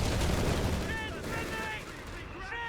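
An artillery barrage and machine gun fire in Company of Heroes 3, dense rumbling blasts and rapid gunfire crowding together, with whistling shell tones overhead, heard under a voice.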